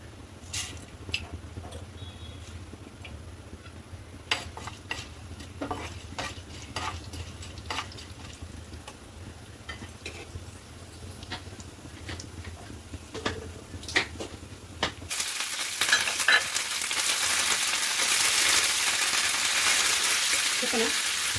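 Tempering for coriander pickle, with cumin and seasoning spices in oil on a stove, crackles and sizzles faintly under stirring and occasional clinks before the frying grows into a steady, louder hiss.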